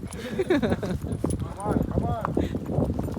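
Horse hooves clip-clop on a path at a tourist spot in Pahalgam, Kashmir, in a steady walking rhythm beneath people talking nearby.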